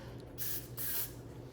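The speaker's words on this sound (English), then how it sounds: "just kind of spray it and then spray it on the part" Two quick bursts of hair glue spray hiss from a pump bottle, close and crisp, separated by a short pause.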